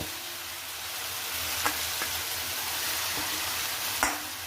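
Meat pieces sautéed for halim sizzle steadily in hot oil, a close continuous frying hiss with a few soft stirring knocks and scrapes, no voices.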